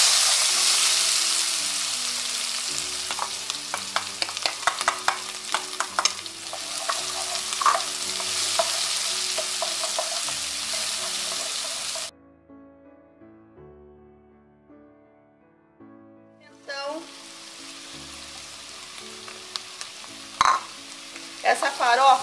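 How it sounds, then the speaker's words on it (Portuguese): Chopped onion fries in a pan with a loud, continuous sizzle and bursts of stirring. The sizzle drops away for a few seconds of quiet, then returns close and strong. "Aqui na panela eu vou colocar a cebola."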